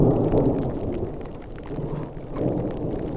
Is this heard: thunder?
yes